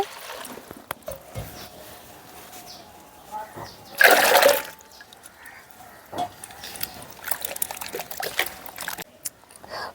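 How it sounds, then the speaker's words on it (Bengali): Pieces of ash gourd are rinsed with water in a large bowl. Soft sloshing and trickling run throughout, with one louder splash of pouring water partway through. "দুই তিনবার করে জল দিয়ে পরিষ্কার করে ধুয়ে নিয়েছি কুমড়োগুলোকে"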